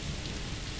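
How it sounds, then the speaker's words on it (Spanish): Steady rain falls in the Tomb Raider video game, a dense, even hiss of drops with no pauses and no voices. "Es que estaba todo el rato lloviendo"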